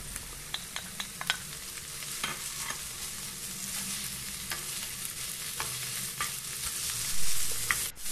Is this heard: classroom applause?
no